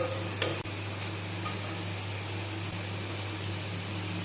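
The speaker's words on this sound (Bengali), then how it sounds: "ভালো করে কষিয়ে নেব এখন মশলাটাকে" Spice masala with mace and salt being sautéed and stirred in a pan for soybean muithya, a quiet continuous sizzle over a steady background hum, with one faint utensil knock early on.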